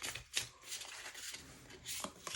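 Tarot cards from the Under the Oak deck being shuffled by hand, a soft continuous riffling and sliding with a few sharper flicks, close and quiet.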